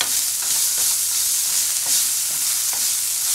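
Rice stirred in a hot pan with cumin and coriander powder, giving a steady close sizzle with soft scraping strokes repeating every half second or so.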